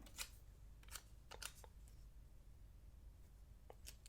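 Scissors snip a few times through planner stickers, quick sharp crisp cuts in short bursts, close and fairly faint against a quiet room.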